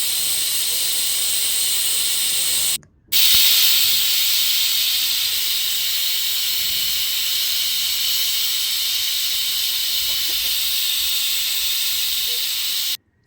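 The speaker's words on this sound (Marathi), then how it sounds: "त्यानंतर कुकरच्या तीन ते चार शिट्ट्या काढून घ्या" A pressure cooker cooking moong dal khichdi vents steam in a loud, steady, close hiss that runs on for several seconds, cuts out briefly, then resumes just as strongly until it stops near the end.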